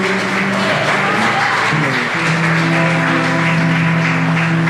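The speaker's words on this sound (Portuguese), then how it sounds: "Louva a Deus com suas palmas." A church congregation claps its hands in praise, a loud and continuous patter of palms blended with sustained musical tones, steady from start to finish.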